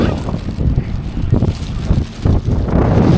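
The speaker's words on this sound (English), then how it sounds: "there's a bit of wind out here. I don't know what it's doing to the camera sound." Wind at a seaside promenade buffets the camera microphone in heavy, uneven low rumbling gusts that swell and dip throughout, loud and close, with no speech.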